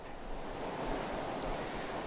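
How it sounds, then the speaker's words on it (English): Strong hurricane wind from Hurricane Helene, a Category 4 storm making landfall near St. Petersburg, Florida, roars as a steady broadband rush with low microphone buffeting throughout, no voices. "Very windy conditions."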